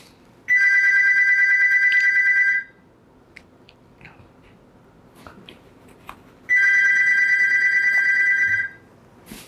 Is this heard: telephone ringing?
yes